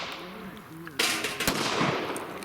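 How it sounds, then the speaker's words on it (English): A semi-automatic pistol-caliber carbine fires at targets 25 yards away, with a few loud, sharp reports in quick succession over a faint background voice. "Semi-auto PC carbine at 25 yards."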